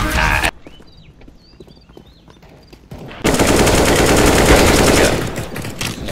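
A P90 submachine gun fires in a video game: a loud, rapid automatic burst at close range after quieter game ambience with birdlike chirps, keeping a dense rattling rhythm for about two seconds before easing off.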